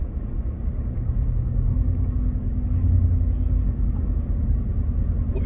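A car engine rumbles low and steady from start to finish, a continuous near drone from a vehicle following close behind on the road.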